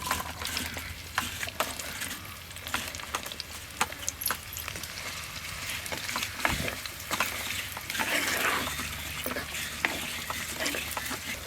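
Onion pieces frying in oil for a prawn curry with coconut milk, a dense, steady crackling sizzle with frequent sharp spatula scrapes and clicks, close and continuous with no voices.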